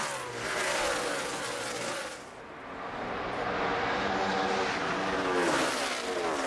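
NASCAR stock cars at Dover International Speedway roar past in a continuous loud engine drone. The sound swells, dips briefly, then builds again as the cars pass, with no talk over it.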